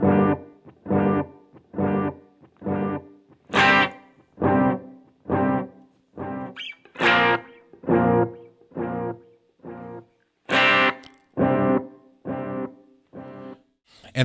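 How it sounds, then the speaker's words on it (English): Rhythmic, evenly spaced guitar chords run through a dark, murky delay pedal, with distorted, effects-heavy tone and repeats trailing off between strikes, played loud and alone. "I want a dark, murky delay pedal here, and this thing has really done that"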